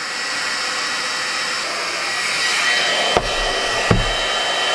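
A GHD Duet Wet to Dry hair styler blows a steady loud airy whoosh close by, with two sharp clicks near the end as it is switched.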